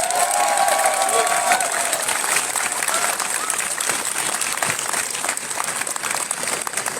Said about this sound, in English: how about a round of applause for the organisers?